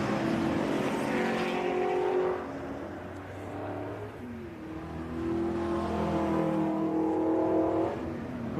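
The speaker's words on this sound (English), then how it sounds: "there is the safety car. It's just coming up." A pack of race cars in the BCV8 Championship at Donington Park follows the safety car, engines droning and rising and falling as they pass at moderate revs, loud and close with overlapping harmonic whine.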